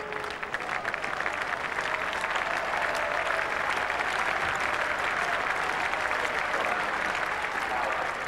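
Cricket crowd at Trent Bridge applauding Brian Lara as he walks out during an England v West Indies Test match in 1995, a sustained even wash of distant clapping from a large stadium audience, continuous throughout.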